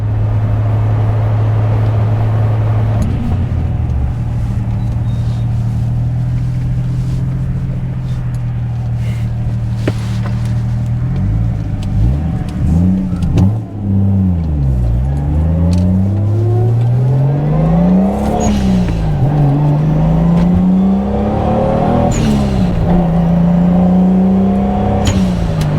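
Toyota Supra MK3 Turbo cruising with flip-up headlights raised, heard from the cabin: a loud, steady engine drone that rises and falls through repeated gear changes and revving, with turbo whir layered over the exhaust.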